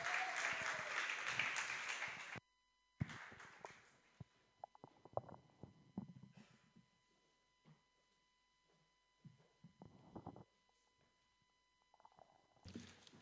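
Audience applause welcoming a band at a live event, a dense burst of clapping for about two seconds, then scattered claps and crowd noise in a quieter hall.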